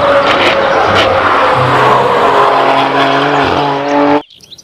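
A toy race car plays a loud electronic engine-and-racing sound effect, sustained with shifting tones for about four seconds before cutting off abruptly, with no voices.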